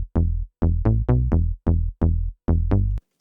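Arturia's DX7 plugin plays its Lately Bass preset as a run of about ten short, percussive FM bass notes in a bouncy rhythm. The notes are clear and prominent, with snappy attacks that fade quickly, and there is no talk.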